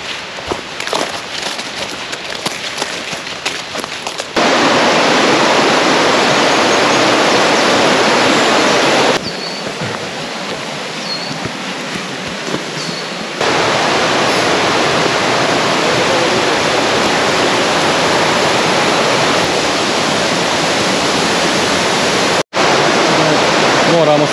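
The Sušica, a mountain stream in Durmitor, rushes loudly and steadily in a broadband wash, its level shifting between sections, with no voices clear above it.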